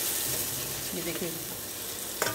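Onion, tomato, ginger, green chili and peas frying together in a pan for baingan bharta, giving a steady close sizzle with a faint stir or clink near the end.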